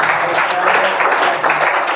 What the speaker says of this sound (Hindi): तुम्हारी तालियां